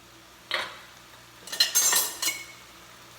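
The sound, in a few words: adding parboiled rice to the pot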